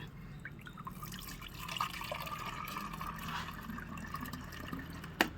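Liquid fertilizer water is poured into a can, a faint, steady trickle and splash close by with a sharper clunk near the end.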